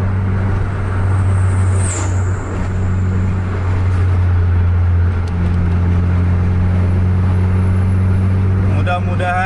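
A bus coded AW03 accelerates hard at full throttle, a loud, steady, deep engine drone heard from close by with road noise throughout.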